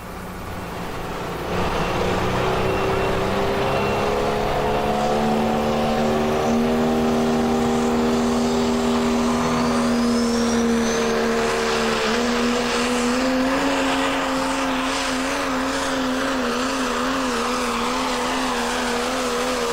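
A Chevrolet diesel pulling truck, Cummins-powered, makes a full tractor-pull pass at a Badger State Tractor Pullers event in Baraboo, Wisconsin, its engine roaring loud and sustained with a steady droning pitch that wavers and climbs across the run.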